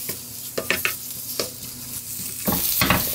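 A spatula repeatedly scrapes and tosses zucchini in a pan with a touch of sesame oil on low heat, producing quick clattering strokes over a gentle continuous sizzle, heard up close without any voices.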